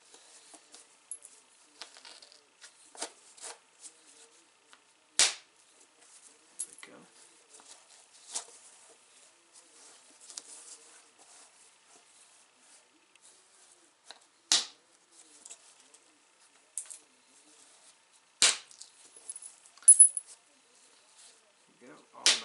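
Novaculite struck while flint knapping a knife blade preform, sharp isolated clicks and taps scattered irregularly over quiet, some louder cracks standing out, no talking.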